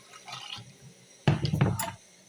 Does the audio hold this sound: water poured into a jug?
yes